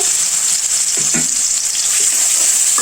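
Onion and garlic paste frying in a little oil in a home kitchen pan for a dish of greens with potato and jackfruit seeds, giving a steady, close, continuous sizzle with a few soft stirring knocks.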